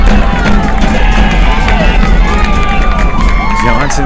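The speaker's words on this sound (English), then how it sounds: "Johnson crowd showing their love, showing their appreciation" At a Johnson versus Westlake baseball game, the Johnson crowd cheers: a steady, loud wash of roaring and hubbub that carries on without a break, with a commentator talking over it.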